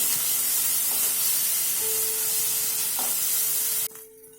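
Grated ginger, garlic and green chilli sizzle and are stirred in a hot pan for paneer bhurji, a steady close hiss of frying that cuts off abruptly near the end.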